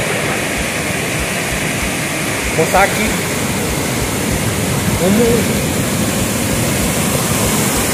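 Floodwater rushes after heavy rain at Praia das Lajes, a loud, steady, broadband roar filling the whole stretch, with someone speaking briefly over it.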